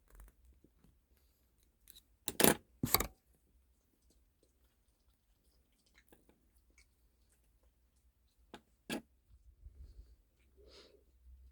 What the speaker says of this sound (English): Cut that weaving wire at both ends.